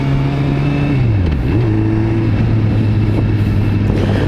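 A car engine hums steadily while cruising through narrow back streets, its low tone dipping and then rising as the driver shifts and accelerates, close and loud throughout.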